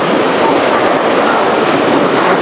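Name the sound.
Tel Dan waterfalls, rushing water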